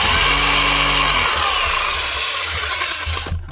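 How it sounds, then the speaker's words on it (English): A Metabo MHEV 5 BL brushless rotary hammer, repaired after a common fault, runs loudly and steadily, its motor whine and hammering rattle continuous for a few seconds before cutting off. "One working Metabo hammer runs"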